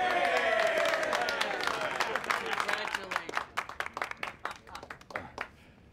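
Party guests break into applause for Atlantic City's new mayor, a dense wash of clapping and crowd noise that thins into scattered, distinct claps before fading out.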